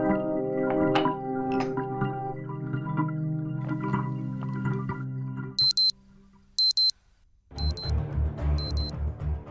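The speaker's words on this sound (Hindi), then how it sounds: "अब अलार्म लगाती क्यों है?" An alarm clock rings in sharp, high repeated bursts partway through, cutting in over a busy, music-like background that drops out before a denser noisy stretch resumes at the end.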